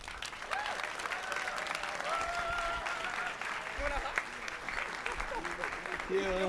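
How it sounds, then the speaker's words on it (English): An audience at a CreativeMornings talk in New York applauds a guest speaker, a steady, fairly distant wash of clapping with faint voices mixed in. "And give a rock star of applause"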